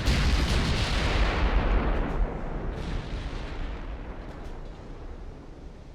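Heavy naval guns firing in a dreadnought-era battleship game, a loud deep boom that rolls and decays slowly over several seconds, alone.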